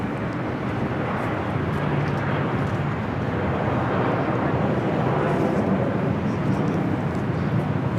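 Delta Boeing 767 airliner flying near Los Angeles International Airport, a loud, steady jet roar filling the whole stretch without letup, nearby and unbroken by voices.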